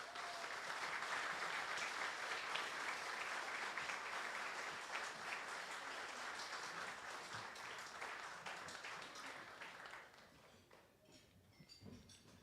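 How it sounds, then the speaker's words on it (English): Audience at a Guam Chamber of Commerce gubernatorial forum applauding the participating teams, dense even clapping at a distance that holds steady then fades out over the final seconds. "let us welcome all these fantastic teams and give them a round of applause"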